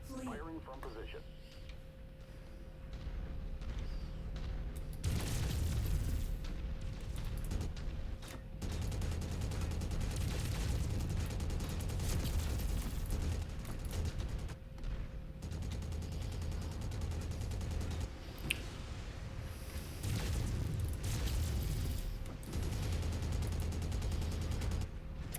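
Gunfire and explosions from a naval combat video game rumble steadily beneath game radio chatter, with deep booms and crackling bursts running throughout amid a constant low engine drone.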